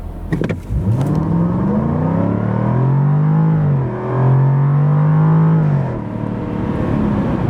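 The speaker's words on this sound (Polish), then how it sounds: "w którym aktywny układ wydechowy przechodzi w tryb bardziej sportowy i wtedy po wciśnięciu gazu słyszy się donośny i piękny ryk" A 2022 Jaguar F-Type convertible with a 5.0 V8 and active sport exhaust accelerates hard, its loud, close roar climbing in pitch, briefly dropping at a gear change, then rising again before easing off.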